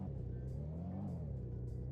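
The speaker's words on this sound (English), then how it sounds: "So let's take the car out for a bit of a spin." Car engine in the video game Earthlingo, a low steady droning hum with slight pitch changes as the vehicle drives, faint and uninterrupted, no speech.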